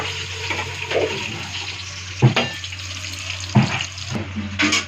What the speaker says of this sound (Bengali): এরপর ডিমটা ভেজে নিচ্ছি।